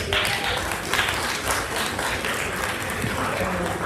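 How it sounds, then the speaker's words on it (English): Warm applause from guests at an 80th birthday party, a full room of clapping held at a steady level with chatter and voices mingled underneath. "Can we all give him another round of applause?"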